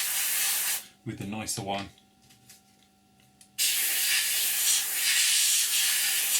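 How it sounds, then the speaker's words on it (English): Paint sprays onto an Academy F-16I Sufa model aircraft kit in loud, steady hissing bursts, one before and one after a short pause in which someone speaks briefly. "just blow through. In comes the nice colour, and I'm just going to overspray"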